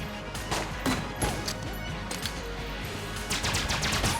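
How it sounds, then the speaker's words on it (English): Grenade launcher fired at a spider in Enter the Gungeon: a busy stream of punchy blasts and crashing impacts, repeated thuds layered with rattling game effects, steady and loud with no talk. "I'm gonna use a grenade launcher on the spider"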